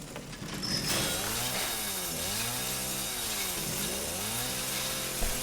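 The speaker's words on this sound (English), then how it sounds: "Now we can use this chainsaw to get the fuck out of here." Chainsaw running steadily in a video game, loud and close, with a buzzing engine drone that rises and falls in repeated sweeping waves for several seconds, no talking.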